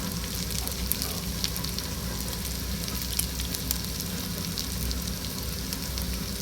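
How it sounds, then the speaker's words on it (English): Chicken kottu with green pepper and leek stir-fried on high heat in a Sri Lankan kitchen, a steady, even sizzle with faint scraping clicks throughout, no voices. "give it a good old stir for about maybe 40 seconds on a high heat."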